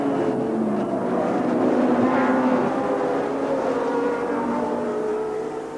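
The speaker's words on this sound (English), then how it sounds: "The Renaults look very impressive touring around together, like Fangio" 1982 Formula One turbo race cars, Renaults among them, tour the circuit at the South African Grand Prix, a distant blended engine drone that swells gently and then fades slightly.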